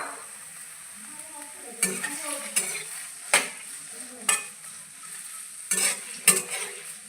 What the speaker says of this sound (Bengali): আগে থেকে কেটে রাখা পেঁয়াজ, রসুন, শুকনো মরিচ, কাঁচামরিচ, আদা এটাকে এখানে এর মধ্যে দিয়ে একটু লাল করে ভেজে নেব।